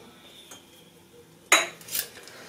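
A spoon clinks and scrapes against a bowl while a sweet dough for cocoa ghriba cookies is mixed by hand, two sharp metallic knocks standing out over quiet background, no talk.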